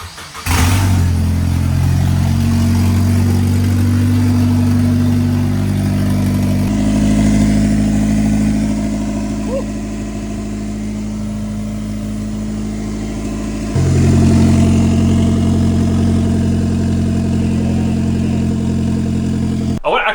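A car engine running without its MAF sensor connected, idling roughly with a steady low rumble that shifts in pitch and level a few times, dipping in the middle and rising again, loud and close throughout.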